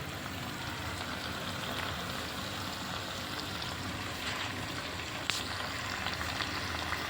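Potatoes and spices fry over medium heat in a pan for a Gujarati bhungda batata snack, making a soft, even crackling sizzle that holds steady throughout without talk.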